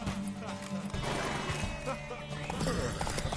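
A horse whinnies in The Witcher video game during a horse race scene, heard fairly faintly beneath character dialogue alongside clip-clopping hooves.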